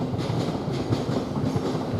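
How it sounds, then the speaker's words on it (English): Thameslink Class 700 electric train passing close at Three Bridges station, a loud steady rumble with rhythmic clickety-clack of wheels over rail joints throughout. "Now through that gate you get a Thameslink train to 1243 from Horsham towards Peterborough."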